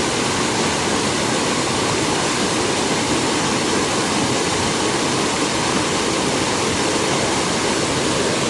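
A stream in high flow rushes loudly and continuously, a steady dense roar of churning water close by with no voices over it.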